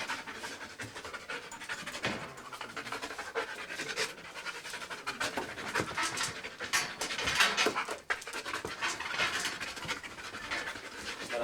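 A police sniffer dog pants rapidly and steadily at close range, a continuous breathy rhythm with small shifts in loudness and a brief pause near the end, no voices over it.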